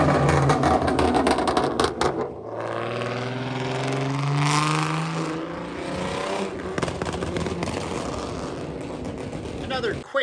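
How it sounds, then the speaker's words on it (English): A classic car cruises past along a road during a Father's Day cruise in North Texas, its engine rising in a steady sweep as it draws near and goes by, with people talking and other traffic around it. "let's take a listen to this car as it comes down the road"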